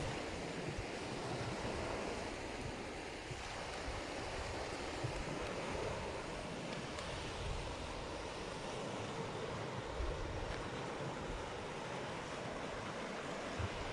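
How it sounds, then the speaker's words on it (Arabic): Sea waves wash steadily onto a shoreline where bird hunters work, forming a continuous broadband roar with wind mixed in and no voices. "تعالوا بقى نوريكم البحر تاني"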